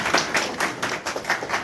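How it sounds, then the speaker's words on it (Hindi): Audience clapping at a ceremony welcoming new members of a Uttar Pradesh traders' association, steady scattered applause with uneven bursts throughout, voices audible beneath it. "तालियां बजती रहनी चाहिए।"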